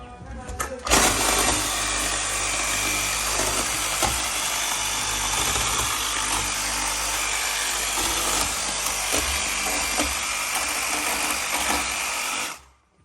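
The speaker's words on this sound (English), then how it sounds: "Now we're gonna remove the jamb with the sawzall." A Sawzall reciprocating saw cuts out a door jamb during door and window demolition, a loud continuous buzzing rasp that runs nearly unbroken for about twelve seconds, then stops abruptly.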